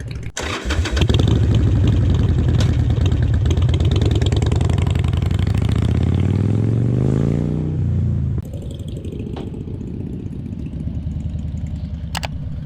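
A 2020 Harley-Davidson Softail Low Rider S FXLRS motorcycle engine fires up and revs loudly, its exhaust rising in pitch before dropping back to a rough, steady idle nearby.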